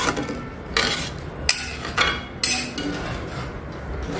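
A metal lid set onto a cooking pot of barnyard millet pulao, several close clinks and clatters of metal against metal over a quiet kitchen background.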